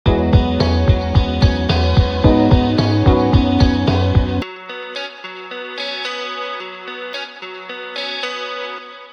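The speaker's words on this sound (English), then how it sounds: "It's your basic clean tone with a washy reverb, an 8th note dotted delay, and a big ass chorus on it" Clean electric guitar run through washy reverb, a dotted eighth-note delay and heavy chorus, playing rhythmic repeated notes with a low pulsing part that drops out midway, leaving shimmering echoing single-note lines alone.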